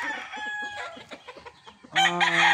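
A Boston Millionaire gamefowl rooster clucks softly in short notes, then lets out a loud, close crow near the end.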